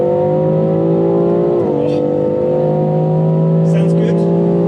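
A 2019 BMW X3 M performance SUV accelerating hard on the road, its engine note climbing steadily toward high revs with a brief dip at a gear change, loud and continuous from inside the cabin while a person talks.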